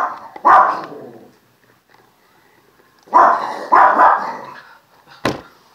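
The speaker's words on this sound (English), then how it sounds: "so the dogs are barking." Dogs bark in short bursts: one or two barks, a pause, then a louder cluster of several barks and a final sharp yip, fairly close with quiet stretches between.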